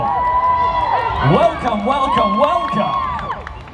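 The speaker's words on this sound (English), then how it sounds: "Let's have a cheer for the start of the panel." A conference audience cheers and whoops at the start of a panel on a main stage, a close mix of scattered shouts and claps mingled with voices throughout the short burst.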